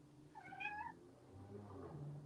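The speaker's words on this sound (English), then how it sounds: "Sorry, that's my cat." A house cat gives one faint, drawn-out meow, followed by softer murmuring sounds against a steady low background hum.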